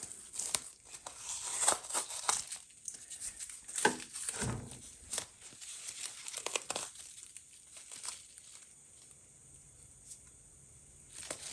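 Painter's tape being torn apart by hand produces a series of close, crinkly rips and crackles in uneven bursts, quiet overall, with short pauses between pulls and no talk.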